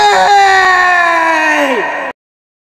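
A loud, sustained scream right after a nightmare, held on one pitch and then bending downward before it cuts off abruptly into silence.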